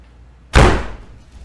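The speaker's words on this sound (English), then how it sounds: "Then, seconds later, the door slams shut." A door slams shut once, a single loud, close bang that fades quickly into a quiet room.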